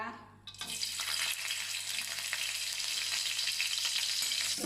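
Whole spices such as cloves, cinnamon, cardamom and star anise frying in a pan for Arabic rice, a bright steady sizzle starting abruptly and holding loud and close throughout.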